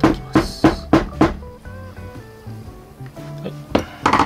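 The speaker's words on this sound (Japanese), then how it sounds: "食い切りのねここの平らな部分で上からトントンと叩きます" Flat part of end nippers tapping down on a coil zipper for leather craft: a quick run of sharp metallic taps, then a pause with ringing tones, then a few more close taps.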